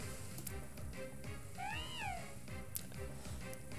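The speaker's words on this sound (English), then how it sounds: "There was another cat!" A cat Pokémon cries in Pokémon Omega Ruby/Alpha Sapphire, a single rising-then-falling meow-like synthesized call over looping game music.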